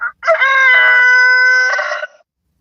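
A rooster crows once, loud and close, a single sustained call lasting about two seconds and standing alone without any talk.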